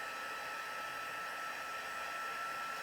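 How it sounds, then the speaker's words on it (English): A heat gun runs steadily for card-making work, giving off a constant, fairly faint airy whoosh with no other sound over it. "I'm going to pop the heat gun on just to warm it up for a minute."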